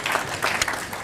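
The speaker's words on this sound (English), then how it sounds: "A round of applause to him." Brief burst of audience applause at an academic symposium, a short dense patter of clapping with no speech.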